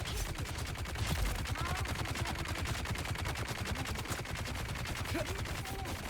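Enemy gunfire from the Dune video game rattles in rapid, unbroken bursts, dense machine-gun volleys stacking over one another with barely any pause.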